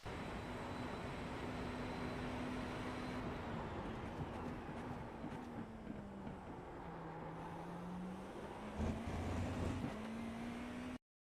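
GTP prototype race car in the iRacing sim at Le Mans, running at full speed: a steady, loud engine drone whose pitch sags and climbs through the lap, with a brief shift in tone near the end.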